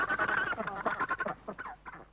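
Seabird chick in a Fiordland colony giving loud, insistent begging calls, a rapid run of harsh squawking notes close by, with no talk.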